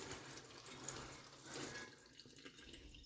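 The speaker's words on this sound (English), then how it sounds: "Alright, so I'm going to drain these." Cooked beans being drained of leftover simmering liquid in a kitchen, a soft steady trickle and splash of water running off that fades toward the end, quiet and without talking.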